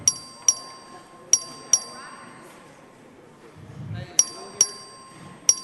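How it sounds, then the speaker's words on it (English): A voting bell rung by the clerk in a state House chamber during a roll-call vote strikes in sharp, ringing dings, struck in quick pairs and triplets with quiet pauses between, over low room murmur. "The clerk will ring the bell."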